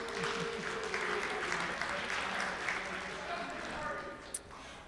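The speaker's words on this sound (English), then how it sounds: "Let's give Brian a round of applause." A Rotary meeting crowd claps in a steady round of applause, a moderate, slightly distant patter of many hands with a faint voice underneath and a brief knock near the end.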